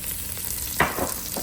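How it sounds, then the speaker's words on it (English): Meat sizzles and crackles steadily in a hot pan, a soft continuous frying hiss with a brief stir sound in the middle. "So I am frying the mincemeat."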